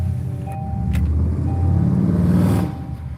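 A blue Chevrolet Camaro speeding past on a road, a rising engine rumble that swells to a peak and then quickly drops away, fairly near and loud for a few seconds.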